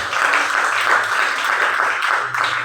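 A church congregation claps and applauds continuously, a dense, lively patter of many hands that holds steady throughout with a slight dip near the end.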